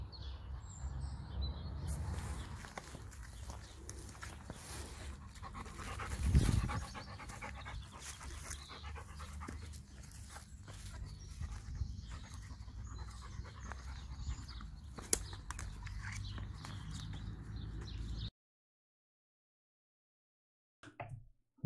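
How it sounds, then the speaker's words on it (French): A dog pants steadily outdoors, close and fairly quiet, with a few faint bird chirps behind it before the sound cuts out near the end. "C'est un bon chien ça."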